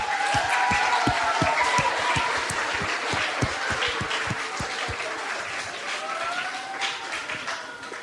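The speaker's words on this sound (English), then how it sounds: "Can we have a round of applause for Sydney's mom, who's here?" An audience applauds Sydney's mother, Chris, during a talk show episode: continuous crowd clapping with sharp individual claps standing out near the microphone, a few voices cheering over it.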